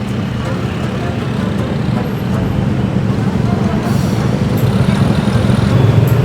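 Jammed road traffic: a broad, constant wash of engine and tyre noise from cars, buses and trucks close by, slowly growing louder, with faint voices underneath.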